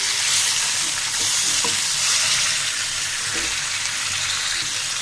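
Raw green banana fries in a pan on the stove, giving a steady, loud hiss and crackle throughout, with a few soft stirring knocks and no talking.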